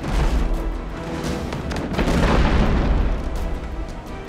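Ship cannons firing at an enemy vessel's sail in the naval combat game Abandon Ship, heavy booming blasts that roll and overlap into a rumbling barrage, loud and close, with no talk.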